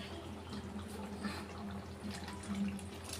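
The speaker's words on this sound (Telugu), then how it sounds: "కొంచెం పడతాయేమో, ఇది ఉడికిపోవడానికి మసాలాకి సరిపోతుంది, అందుకని ఇంకొంచెం వాటర్ వేస్తే" Water trickles and splashes as it is poured into a pan of chicken masala curry, forming a steady, faint liquid flow under a low background hum.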